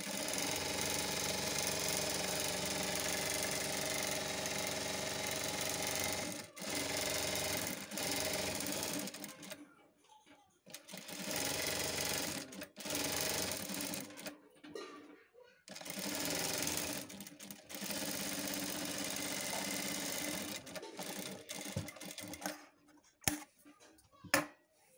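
A sewing machine stitches along the folded-over edge of blouse fabric, a close, loud, steady whirring run in long bursts broken by several brief stops and starts, with a few soft handling clicks near the end.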